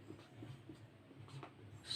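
A chemical formula is written on a board in a classroom, making soft, faint rubbing strokes in a quiet room, with short scratchy pulses across two seconds.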